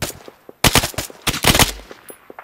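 Bursts of automatic gunfire crack loudly in two dense volleys, each lasting a fraction of a second, during a 1980 Afghanistan combat mission in a video game, with short quiet gaps and scattered single shots between them.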